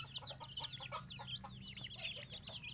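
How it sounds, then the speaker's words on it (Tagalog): Native chickens on a small farm in Aurora cluck and chirp continuously at close range, their busy overlapping calls rising above a low steady hum, with no talking. "Ngayon po ay mga alaga ko na po ng manok."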